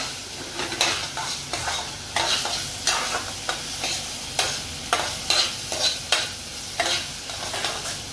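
Tomatoes sizzle and fry in a pan for spicy Agri-style Maggi masala while a spoon stirs them, with regular scraping strokes about once a second over a steady close sizzle.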